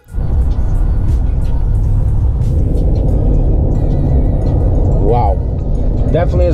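A steady, loud engine and road rumble from inside a 2018 Ford F-150 pickup with a direct-injected 5.0-liter engine driving west on Interstate 40, with people talking over it throughout.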